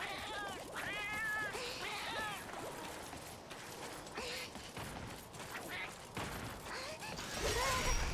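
Cats meow repeatedly in a Pokémon video game, several rising, wavering calls in quick succession over a busy background of mechanical creaks and clatter, with a voice talking partly over them.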